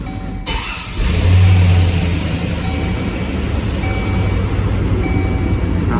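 A Chevy Silverado engine cranks and catches with a sudden rise in loudness, then settles into a steady, close idle that runs on unbroken.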